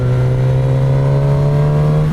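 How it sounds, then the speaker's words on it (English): A 2019 Suzuki GSX-S1000 inline-four motorcycle engine runs close and loud with a steady, humming drone that shifts slightly in pitch as it is revved. "It's got that typical inline 4 hum, with a little bit of a brap in there as well."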